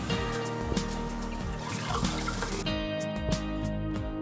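Water poured into a cooking pot, a steady trickling, splashing stream close by with rhythmic sloshing pulses and ringing tones from the pot.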